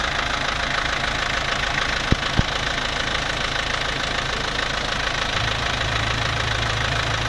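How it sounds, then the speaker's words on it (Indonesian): Isuzu Panther 2000 diesel engine idling steadily with the oil filler cap open, a close, continuous even rumble with a couple of brief clicks and no talking. "kita cek dulu mesinnya apakah ngobos apa enggak ya kita lihat ini tutup oli mesin ya"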